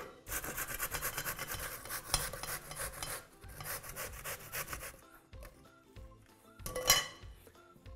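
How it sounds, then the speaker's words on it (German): Zucchini rasped coarsely on a grater for vegan rice cakes, a steady run of close scraping strokes with a short pause and a few lighter rubs and clinks near the end. "Zucchini mache ich grob reiben."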